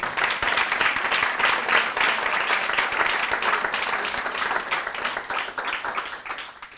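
Sustained applause from an audience at an academic talk on social science genomics, dense steady clapping throughout that tapers slightly toward the end.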